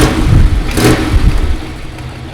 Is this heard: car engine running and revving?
yes